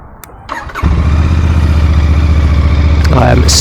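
A Royal Enfield Bear motorcycle engine cranks and fires after a short quiet moment, then settles into a loud, steady, close idle with a throbbing low rumble that holds to the end.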